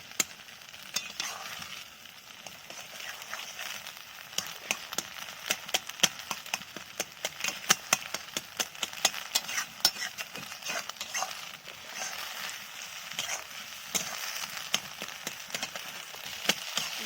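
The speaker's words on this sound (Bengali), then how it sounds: "এটা আমার ভাজা হচ্ছে" Eggs fry and get stirred in a pan at home, a steady crackling sizzle laced with frequent sharp clicks and scrapes of a utensil against the pan, continuous and close with no talking.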